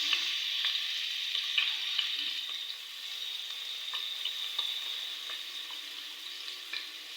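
Garlic sizzles in hot oil for a prawn curry, a steady close hiss throughout with scattered crackles and small pops and faint stirring sounds, no voices.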